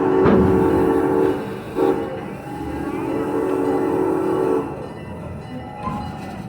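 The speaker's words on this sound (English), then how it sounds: "our train is slowly approaching our Nairobi train station" The Serengeti Railway train at Busch Gardens rumbles along the rails, a steady loud roar with a few brief surges, fairly close, and a voice faintly underneath at times.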